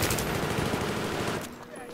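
Rapid automatic laser-gun fire in the Battlefield 3 Venice Unleashed mod, a dense burst of close shots that cuts off before a quieter tail.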